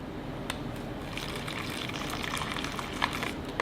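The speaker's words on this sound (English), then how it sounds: "It says to add just 6 ounces of water." Water pours steadily into an MRE drink pouch for a few seconds, a close, continuous trickling fill with no talking.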